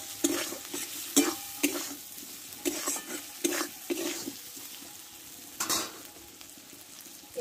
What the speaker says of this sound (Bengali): মশলা একটু ভালো করে কষে নেব।